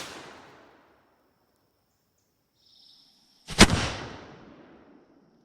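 A Hakenbüchse hookgun, a hand cannon, fires once with a single sharp, loud, close report that rolls off into a fading rumble, preceded by near silence and a faint hiss.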